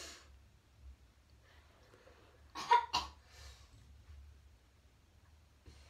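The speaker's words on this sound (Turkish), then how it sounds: "Bu arada öksürdüm, korona değilim." A short pair of coughs near the middle, close and fairly loud, from a person in a quiet indoor room during a makeup session, alone against a low background hum.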